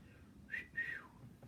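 A person whistles two short, faint notes, the second held slightly longer, alone against quiet background.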